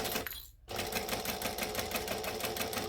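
A sewing machine stitches the last edge in a quick, even clatter, starting after a brief pause and continuing close and steady to the end.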